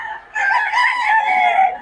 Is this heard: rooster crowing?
yes